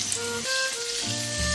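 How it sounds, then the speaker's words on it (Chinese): Dumplings pan-fry in a thin layer of oil, giving a steady close sizzle and crackle with a few faint tonal clinks over it. "锅底一层薄油下锅煎"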